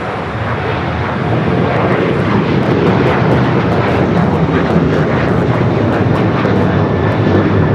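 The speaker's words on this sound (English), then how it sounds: "will be the first time we've actually got this Dreamliner taken off on the south side during our Sunday show" A Dreamliner jet takes off at LAX with a loud, sustained engine roar that fills the scene, steady and broadband with a slight swell, and no voices.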